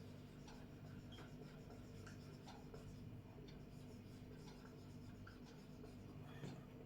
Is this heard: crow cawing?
no